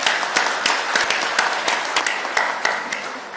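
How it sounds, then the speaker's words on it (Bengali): An audience applauds for police at a public address, a moderately loud spread of sharp, irregular claps that keeps going steadily for a few seconds with no voices over it. "সবাই মিলে আপনার জোরে হাততালি দেন।"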